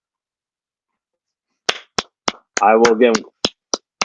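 Sharp, separate hand claps, a handful spaced about a beat apart, with a short stretch of speech in the middle.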